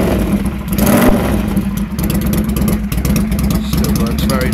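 A motorbike engine with an exhaust cut about a foot shorter revs steadily at close range, a deep throaty exhaust note rising and falling without pause, with a brief louder surge near the start.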